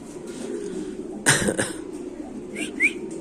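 White Bombay pigeons coo softly over a low background hum, with a brief burst of handling noise in the middle and a couple of short chirps near the end.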